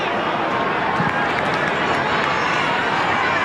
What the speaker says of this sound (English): Crowd really starting to get involved now.